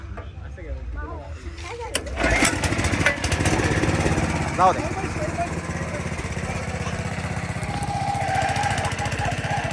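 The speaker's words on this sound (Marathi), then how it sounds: "पुन्हा एकदा ट्रॅक्टर चालू करून देत त्याला" A tractor engine chugs loudly and steadily close by after a brief quiet start, with people talking over the running motor.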